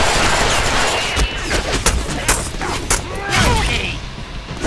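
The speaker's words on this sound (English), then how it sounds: "I am shooting you!" Dense gunfire and explosions in the Deadpool video game, rapid bursts and booms layered continuously over a busy, loud soundscape with no pause.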